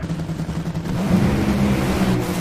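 A drag racing car's engine revs loud and close at a Dallas 2024 drag race, a steady rumbling drone that swells slightly in the second half, with no voices over it.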